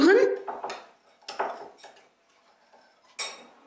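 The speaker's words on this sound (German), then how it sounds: "Und die Soße sehr gut mit dem Löffel umrühren" A spoon stirs sauce in a dish while cooking chicken legs, giving several short clinking, scraping bursts of metal against the bowl, close and moderately loud, separated by brief pauses.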